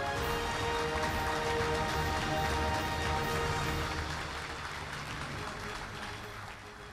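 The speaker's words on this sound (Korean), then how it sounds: "축하와 격려의 박수 보내주시기 바랍니다" A large crowd applauds steadily at a government award ceremony with the president present, dense clapping that stays loud for several seconds and then gradually thins out.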